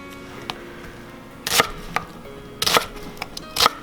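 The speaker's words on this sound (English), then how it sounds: "Same exact procedure, just cutting larger slices into the onion." Chef's knife slicing larger cuts through an onion on a board, a few crisp isolated chops and taps at a slow irregular pace, quiet and close with no talking.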